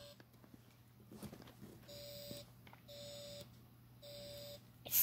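A phone gives repeated short electronic beeps during a failed call attempt, three evenly spaced tone bursts sounding close and steady over a faint background hum.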